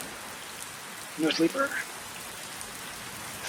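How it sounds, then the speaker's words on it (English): Soft, constant rainfall in American Truck Simulator surrounds a Volvo VNL 300 day cab, a low hissing patter that continues throughout while someone speaks briefly over it. "we get some rain for the Volvo VNL 300 day cab"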